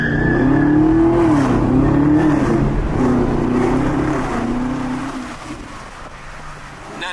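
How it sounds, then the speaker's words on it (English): A Chevrolet Camaro ZL1 1LE launching on a residential street, a loud close engine roar rising in pitch through the revs, then easing off and fading as the car pulls away. "we finna do one of those first launches in this car"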